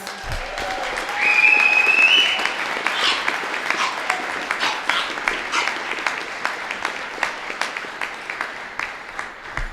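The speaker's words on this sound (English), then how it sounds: "Please let's give them a round of applause." A crowd at an outdoor Veterans Day ceremony gives a round of applause for a chemical company unit, swelling early and then thinning into scattered individual claps, with a brief whistle near the start.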